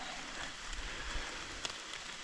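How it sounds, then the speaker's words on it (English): Light rain falls at a campsite on the Appalachian Trail, a soft and steady patter with faint scattered drops, quiet and even throughout, with no voices. "It's been raining lightly all morning long"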